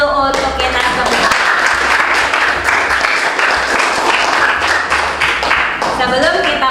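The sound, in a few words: classroom applause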